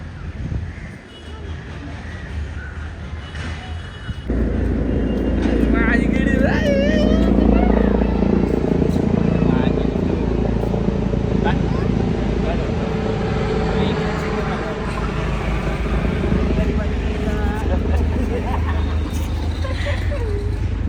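A motorbike rides along a road with a steady, loud engine drone throughout, wind and traffic noise around it, and a voice talking over the ride.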